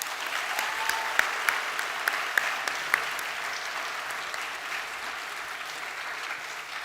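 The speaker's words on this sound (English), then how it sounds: "I think it deserves another round of applause" Audience applause at a college arts awards evening, a steady wash of clapping that carries through the whole stretch, with a few sharper individual claps standing out early on.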